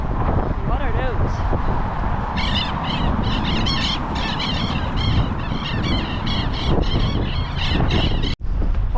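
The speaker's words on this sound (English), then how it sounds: "we've seen a whole lot of birds" Geese honk repeatedly by the water in Ushuaia, with bursts of calls through most of the stretch under a steady background wash.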